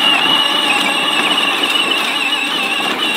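A child's ride-on toy tractor driving over a pile of hay, a steady whirring electric motor hum with faint rustling, fairly close and continuous, without talk.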